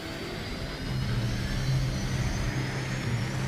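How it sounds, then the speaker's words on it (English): LCAC Landing Craft Air Cushion hovercraft engines producing a steady, loud roaring drone with a sustained low hum that swells slightly after the first second, with no voices. "LCAC stands for Landing Craft Air Cushion"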